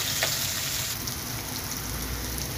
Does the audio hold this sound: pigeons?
no